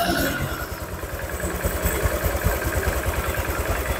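Honda Vario 150 scooter engine idling close up during a check for fast overheating and radiator coolant loss, with a quick, even throb that firms up after the first second and holds steady.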